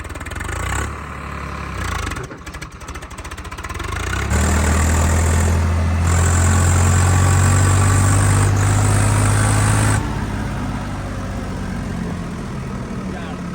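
A Swaraj 855 tractor engine, turbo, 65 horsepower, on 18-inch tyres, runs loudly and steadily, its low drone swelling midway as it works harder, then easing back, with brief rattles and clatter early on.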